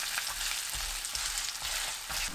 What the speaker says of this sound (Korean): 팬이 예열되면 중약불로 낮추고 반죽을 넓게 펼쳐 올립니다